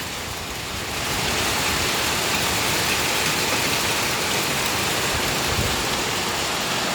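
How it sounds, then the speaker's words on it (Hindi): Stormy rain mixed with hail pours onto stone houses in a dense, steady roar that swells after the first second and stays loud and unbroken, with no voices over it. "तूफ़ानी बारिश।"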